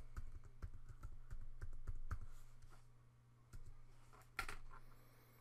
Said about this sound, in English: If, for example, I type in that word resources